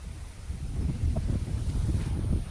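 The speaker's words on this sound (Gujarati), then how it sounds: "પવન એટલે કાંઈ ના ઘટે બકા" Strong wind buffets the microphone at an outdoor viewpoint near the Statue of Unity with a dam in view. The rumbling gusts are loud and continuous, with no talking.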